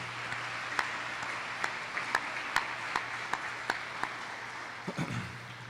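Scattered applause from an audience at a high school signing day for student athletes, a soft, fairly distant wash of clapping with a few sharper individual claps standing out.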